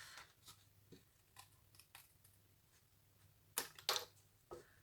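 Scissors cut through card for a Christmas tri-fold card, with quiet snips and light rustles of the paper, then two sharper, louder cuts near the end, all close and without speech.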